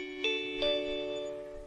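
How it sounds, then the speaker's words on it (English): A two-tone bell chimes twice in quick succession, ringing clearly and then fading slowly. "And there's the bell."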